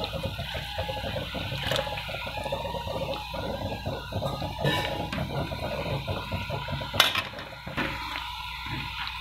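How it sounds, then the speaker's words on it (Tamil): Water poured steadily into a pan while making vada curry, a continuous splashing, trickling flow close by that runs for several seconds with a brief louder clatter near the end. "இப்போ நம்ம இதில் கொஞ்சம் தண்ணி ஊற்றிடலாம்"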